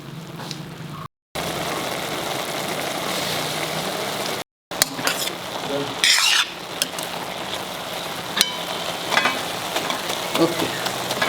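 Grated carrot halwa simmers in milk on a medium flame, a continuous soft bubbling sizzle with occasional spoon scrapes and clinks from stirring, broken by two brief gaps.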